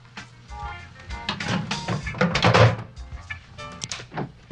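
A few wooden thunks and creaks, as of a door being worked open in the game Nancy Drew: The Mystery of the Solid Gold Kicker, with a heavier clunk midway; no talking.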